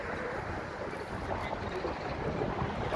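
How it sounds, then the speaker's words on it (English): Gusty outdoor wind roars steadily across the microphone, a broad rushing noise that swells slightly toward the end, with no clear speech over it. "It's windy today."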